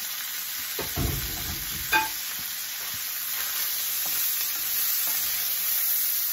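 Corn sizzles steadily in a hot frying pan, with a bright constant crackle and a few scraping stirs and clinks near the start; no speech.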